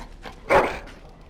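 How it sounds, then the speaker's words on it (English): A single sharp dog bark, loud and close, in the video game Dragon Age: Origins, with quiet background ambience around it. "Bloody dog."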